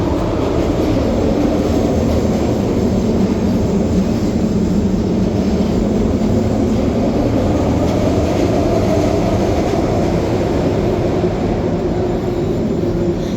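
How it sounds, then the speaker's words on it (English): An elevated Market-Frankford Line train passes over a West Philadelphia street at 61st and Market, a loud, steady rolling rumble that holds evenly throughout without breaks. "Another train on our right hand side."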